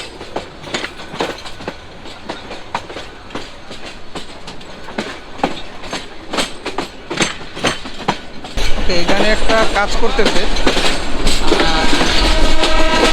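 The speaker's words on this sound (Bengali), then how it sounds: "কমলাপুর রেলওয়ে স্টেশন থেকে কিন্তু এখন ছেড়ে দিচ্ছে।" Mohanganj Express pulling out of Kamalapur railway station in Dhaka, heard from on board: rhythmic clickety-clack of wheels over rail joints that grows louder and denser partway through, with a person briefly talking nearby.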